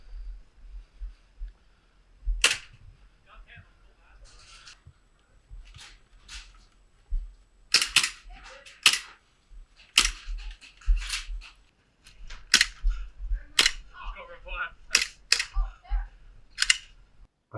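Army Armament R17 airsoft pistol firing, a string of sharp, loud cracks spaced irregularly over quiet background with light handling noises between shots.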